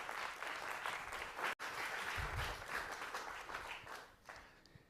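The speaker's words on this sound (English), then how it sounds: "So could you give a big round of applause, please, for Professor Stephen Freeland?" Audience applause at a future forum conference in Dubai, a sustained wash of clapping from a crowd heard at moderate distance, tapering slightly toward the end.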